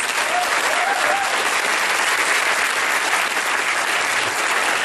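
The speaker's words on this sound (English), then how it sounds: "Can you give me a round of applause?" Sustained applause from an audience at an Amway Platinum recognition event, a dense even wash of clapping that stays loud and steady for the whole stretch with no talk over it.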